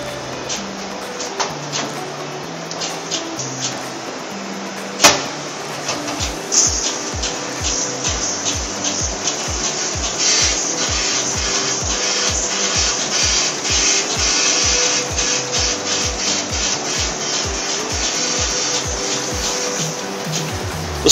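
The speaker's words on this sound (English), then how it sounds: "Power flush the fluid passageway completely with the power pistol." A power pistol blasts cleaning fluid through the fluid passageway of an E300A spray gun, giving a loud steady spraying hiss overlaid with a fast, regular series of mechanical pulses that runs on for many seconds.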